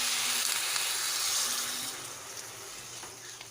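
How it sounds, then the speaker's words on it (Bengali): Water poured into a sizzling spice paste for a catla fish curry makes a loud, dense hiss and bubbling fry that gradually settles down, close up and steady, with no talk. "এর মধ্যে আমি পরিমাণ মতো জল দিয়ে দেব"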